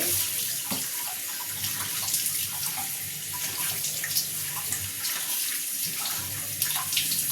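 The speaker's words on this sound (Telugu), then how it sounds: "ఫస్ట్ ఇలా అన్నీ శుభ్రంగా నీళ్ళతో కడిగేసుకోవాలి" Running tap water pours steadily over fish being washed, a continuous splashing rush with small clatters throughout.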